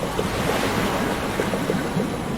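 Water rushes steadily through the Channelwood Age in the game Myst, a loud, continuous, broad wash that stays even from start to finish, with no talking.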